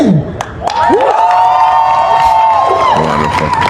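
A crowd at a rally cheers and whoops loudly and continuously for several seconds, with shouting voices rising above the roar and scattered applause.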